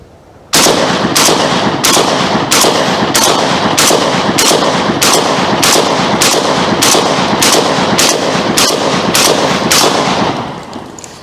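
A 12 gauge shotgun fed from a DefencePort 20-round drum fires about sixteen loud, close blasts in a steady rapid rhythm, each shot evenly spaced, ending with a fading echo.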